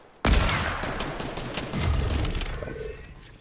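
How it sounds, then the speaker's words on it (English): Gunfire in a video game opens with a sharp, loud burst, then runs on as a dense rattling volley that swells again midway before tapering off, with no talk over it. "I'm gonna shoot people right here"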